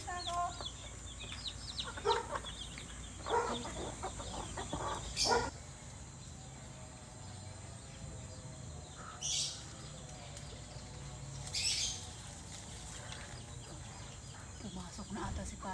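Clucking from a chicken at a home, short bursts of clucks scattered through a quiet stretch with faint background noise, while people talk intermittently nearby.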